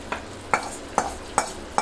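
A spoon stirs fried onion, tomato, green chili and cumin into broiler chicken in a pot, giving five evenly spaced scraping strokes over a soft steady sizzle, close and moderately loud, with no talk.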